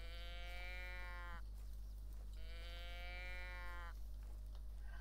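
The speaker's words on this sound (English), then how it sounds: "Why does your call sound like a dying goat?" Two long, drawn-out bleating calls, each lasting over a second, sound from a hunting animal caller in theHunter: Call of the Wild, heard fairly close over a steady low background hum.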